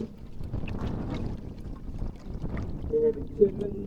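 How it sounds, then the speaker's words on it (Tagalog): Strong wind at sea gusts into the microphone as a steady rough rumble, with water lapping around a small boat and people talking close by. "Malakas na talaga ang hangin guys."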